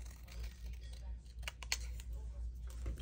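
Scissors cut through paper during a papercraft project for faux envelope pockets, a few quick, faint snipping crunches up close over a low background hum.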